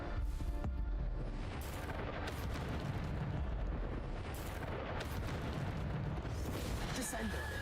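Bombarda explosive spells going off in a hard-difficulty Hogwarts Legacy battle, a dense, continuous roar of blasts and booms layered with other spell effects and sharp bursts throughout, loud and unbroken.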